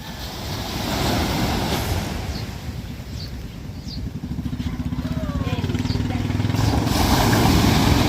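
Ocean waves break around a small boat at sea, a rough continuous wash with wind buffeting the microphone and a low engine-like rumble growing louder toward the end, with faint distant voices.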